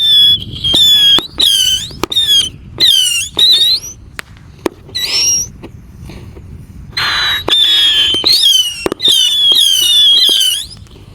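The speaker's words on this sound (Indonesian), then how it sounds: "yang akan kita nyalakan, di sini ada misil. Ini 25 shot guys. Kita nyalakan di lubang tanah." A 25-shot missile firework cake set off in a hole in the ground fires a loud, close series of shrill whistling shots, each ending in a sharp crack, in uneven bursts with brief gaps between them.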